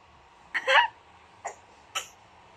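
A child coughs three times, one fuller cough and then two shorter, sharper ones, with faint background noise in between.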